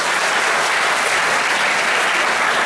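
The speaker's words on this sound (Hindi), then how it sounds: "आप मेरा साथ देंगे तो जोरदार ताली बजा" Loud, dense clapping from a large college alumni audience fills the whole stretch, a continuous, even roar of many hands with no pauses or voices on top.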